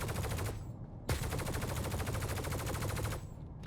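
Steel turrets on a Drake Cutlass Steel ship in Star Citizen fire in a dense, continuous rapid burst, a loud mechanical rattle of shots that runs almost unbroken, with a brief gap and a sharp restart.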